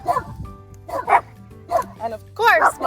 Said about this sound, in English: my sweet pups want to bark right when I'm doing my video